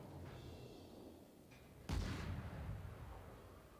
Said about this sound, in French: Allez les canons nautiques.